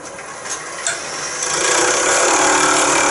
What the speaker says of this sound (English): I can use the corner of the detail chisel in there just to remove the burr